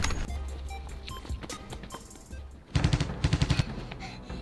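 A 98K sniper rifle in a staged live-action battle-royale game sketch fires a run of quick, loud, sharp bangs, several in close succession, after a stretch of quieter thumps and background noise.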